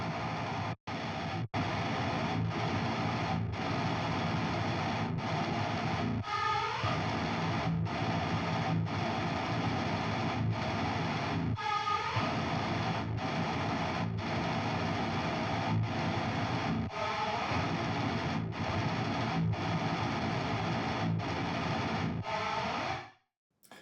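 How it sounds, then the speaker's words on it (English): Dissonant modern metal guitar chords, heavily distorted and drenched in reverb, ring in a dense, continuous wall of sound with rhythmic hits, loud and alone for over twenty seconds before cutting off. "now you can really hear what the reverb is gonna do to these dissonant chords"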